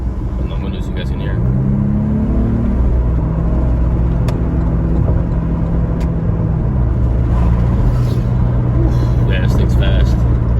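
Porsche Panamera 4, a 2012 model in sport plus mode, pulls hard with a steady low engine drone and road rumble. The engine note rises and holds beneath continuous talk inside the cabin.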